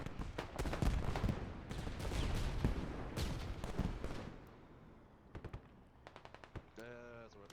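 Automatic grenade launcher fire in a multiplayer Squad shooter match: sustained bursts of rapid booming shots and explosions for several seconds, then sparser separate pops, with a commentator talking over the gunfire throughout.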